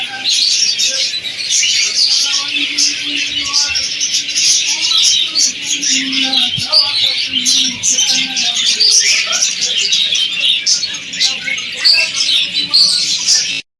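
Dense chirping and tweeting from many caged birds fills a bird market in Madina, with occasional dove coos and bursts of calls, continuous and close throughout.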